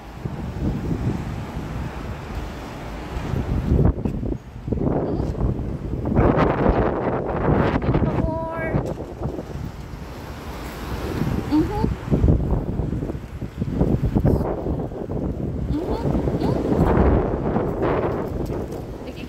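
Strong gusting wind buffets the microphone outdoors, a loud, continuous roar with surging gusts throughout, while a voice speaks intermittently beneath it.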